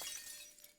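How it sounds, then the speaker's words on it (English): A sword snaps in two with a bright, brittle metallic shattering from the Arknights game, a short burst of high ringing debris that fades quickly with no voices. "But then comes a brittling screech of shattering metal, and he sees that it is his own sword that has snapped in two."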